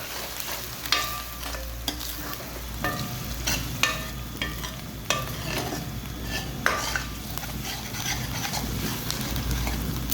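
Onions, ginger and garlic frying in a pan with a constant sizzle, a low hum underneath, and repeated scraping clicks of a utensil stirring.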